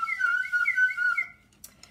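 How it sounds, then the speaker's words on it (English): A slide whistle toots a wavering, sliding tone for about a second with a few pitch bends, loud and alone, then cuts off, followed by faint small clicks. "So if you have your slide whistle"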